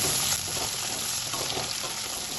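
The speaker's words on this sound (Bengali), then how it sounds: "টমেটোটাও তেলের সাথে একটু নেড়ে চেড়ে নেব" Chopped tomato and onion fry in oil for a pumpkin chokka, giving a steady, even sizzle with no voices.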